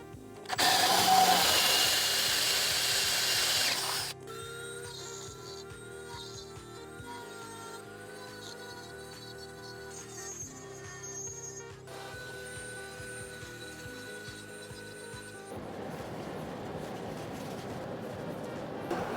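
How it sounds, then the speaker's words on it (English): A power drill bores through a wooden guitar body in one loud, whirring burst of about three seconds, followed by quieter mechanical humming. "And while I'm at it, why not drill through this too?"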